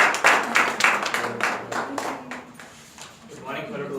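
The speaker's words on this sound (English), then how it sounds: "big round of applause." Members at a Toastmasters meeting clap in a short round of applause, brisk distinct hand claps loud and close at first, then thinning and fading, with speech over the end.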